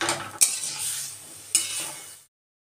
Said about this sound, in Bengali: দিয়ে এখন এটাকে ভালো করে আমি রান্না করে নেবো মোচাটা।